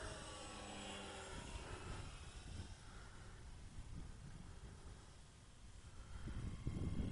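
The electric motor and propeller of a Dynam Tiger Moth RC biplane, run on a 4S battery, buzz steadily as it comes in to land. Heavy wind rumble partly masks the sound, and it swells near the end.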